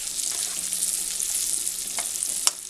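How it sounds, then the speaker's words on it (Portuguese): Sausage and bacon frying in a pan hiss with a steady, fairly quiet sizzle, broken by a few faint stirring clicks and one sharper knock near the end. "a linguiça e o bacon fritos"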